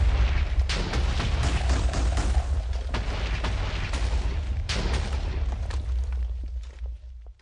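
Loud, booming Minecraft modpack (All the Mods 8) explosions burst one after another in a dense, continuous barrage, then fade out toward the end.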